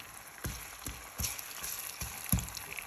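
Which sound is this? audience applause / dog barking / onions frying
onions frying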